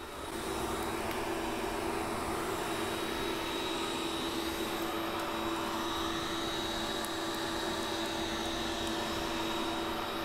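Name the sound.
Geeetech Mizar S 3D printer running, fans audible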